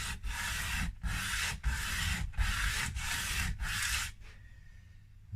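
Sandpaper rubs back and forth on the wood of an Epiphone Pelham Blue ES339 guitar in a steady rocking rhythm. Six or seven close, even strokes end in quiet.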